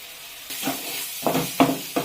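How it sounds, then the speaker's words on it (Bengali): Oil sizzles steadily in a pan while a utensil scrapes and stirs stuffed bitter gourd with Kashmiri chilli powder in four quick bursts, close and moderately loud. "এবার ভালোভাবে আমাদের এটাকে ভেজে নিতে হবে।"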